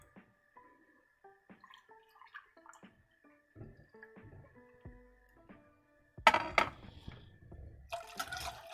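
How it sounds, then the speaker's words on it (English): Milk poured into a sauce in a pan, a brief, loud gush of liquid after a stretch of faint drips and small kitchen clinks, with a second, shorter splash near the end. "I'm going to add the 2nd cup of milk."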